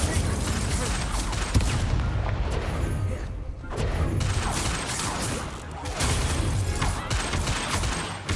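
Incendio fire spells cast in a Hogwarts Legacy battle: loud, dense bursts of crackling, booming blasts follow one another almost continuously, with brief lulls, over heavy game-combat noise.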